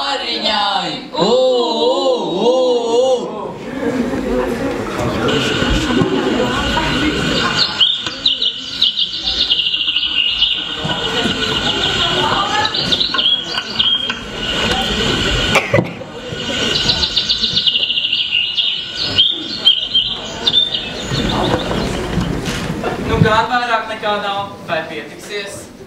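Children in a school stage performance make bird chirps and tweets, a busy, sustained chorus of high calls over singing and group voices, with a voice imitating birds throughout.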